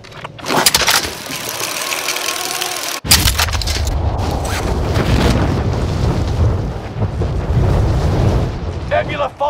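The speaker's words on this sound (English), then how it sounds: "Nebula 5 bomb has detonated in the distance" In a Call of Duty Warzone match, a bomb goes off far away, and a deep rumbling boom rolls on under a game announcer's voice.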